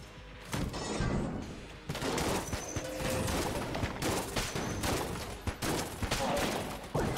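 Rapid AK-47 fire rattles through a frantic round of the video game Enter the Gungeon, dense bursts of shots with sharp cracks and impacts layered over game music, fairly loud throughout.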